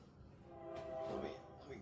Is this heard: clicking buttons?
no